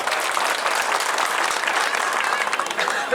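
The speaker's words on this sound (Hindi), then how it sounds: "एक बार जोरदार ताली बजाकर" An audience at a political party workers' gathering in Nagda, India claps in dense, continuous applause, loud and sustained throughout with a crowd murmur mixed in.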